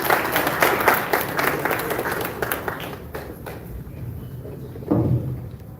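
Applause from a lecture audience welcoming a speaker on the importance of reading, a dense burst of clapping that thins and fades over the first seconds, with a brief louder swell near the end.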